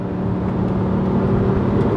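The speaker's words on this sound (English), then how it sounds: "It revs up real quick actually." Manual VW Passat W8 engine spinning up quickly through the revs while driving, a steady, fairly loud in-cabin drone with no talk over it.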